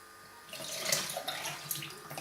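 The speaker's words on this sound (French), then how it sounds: "vous allez prendre le lait. Vous versez tout dedans." Milk poured from a container into a bowl for pancake batter, a steady liquid splash rising after a quiet start and running continuously for about two seconds, moderately loud and close, with no talk.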